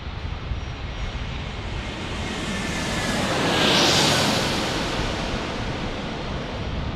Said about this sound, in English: We've got an A321 Neo coming in.